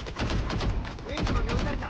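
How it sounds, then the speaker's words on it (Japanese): Gunfire in a video game, dense rapid shots crackling continuously close up, with game sounds layered over it. "ウィングがスパイクで撃ってる。"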